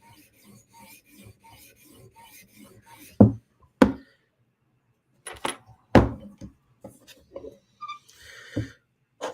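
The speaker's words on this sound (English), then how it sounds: "We want to leave the 400 grit stone beautiful" A knife is worked on a 400 grit whetstone, giving faint scraping strokes that are followed by several sharper, louder rasping passes and scattered taps, all close up in a quiet room with no talking.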